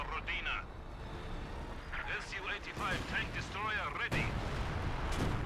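Artillery barrage shells landing in the strategy game Company of Heroes 2, heavy booming impacts rolling under continuous commentary from a voice.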